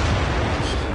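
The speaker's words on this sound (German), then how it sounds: "War ja eigentlich klar, dass die explodieren" Exploding devices go off in the Beyond Good and Evil video game, one short dense blast with a rumbling low-end body that fills the whole second.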